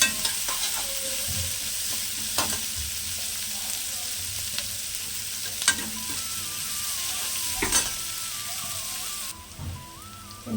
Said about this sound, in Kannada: ಈ ರೀತಿ ಈರುಳ್ಳಿ ಫ್ರೈ ಆಗಿದೆ